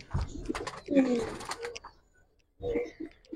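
Giribaz pigeons coo close by in short, throaty bursts separated by a brief pause, while a voice talks over and between the calls.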